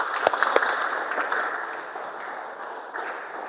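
An audience at an Indonesian motivational talk breaks into applause, starting with a few sharp claps and settling into a steady, moderate wash that slowly thins out.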